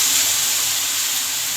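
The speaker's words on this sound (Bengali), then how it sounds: "পটল আলুগুলো ভাজা হয়ে গেছে, এবার আমি মশলা জলটা দিয়ে দিলাম" Spiced water poured into a pan of frying pointed gourd and potato, giving a steady, loud hiss and sizzle that holds evenly throughout with no voice.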